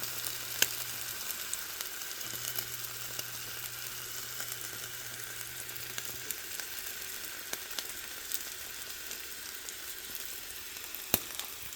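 A tortilla fries in hot oil with a soft, steady sizzle and scattered faint crackles and pops, quiet and close throughout.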